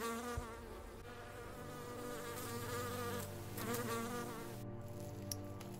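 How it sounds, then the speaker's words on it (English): Persistent close insect buzzing with whining, wavering tones of mosquitoes circling near the ear, continuous throughout with no talking. "Oh, these mosquitoes are brutal."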